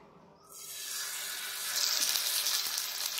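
A whole jalebi fish drops into hot oil and breaks into a loud, sudden sizzle that swells into a steady, bright frying hiss, close up and with no voices.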